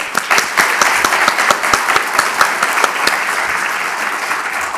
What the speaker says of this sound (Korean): 이 자리에 계신 모든 분들의 이렇게 마음을 담아서 박수 한번 같이 한번.